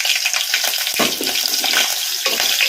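Green chilies hit hot oil in a pan and fry with a loud, continuous crackling sizzle, brief bursts of spatter rising over the steady hiss, with no talking.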